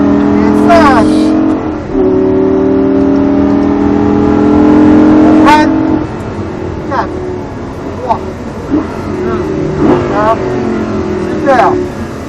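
A Lamborghini Gallardo accelerates hard on a race circuit, its engine note climbing in loud rising sweeps broken by gear changes, then settling into quieter revving surges.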